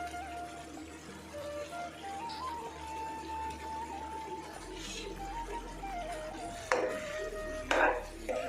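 A knife cuts paneer on a board in a home kitchen, a couple of soft knocks near the end over a low, steady hum, with no talking.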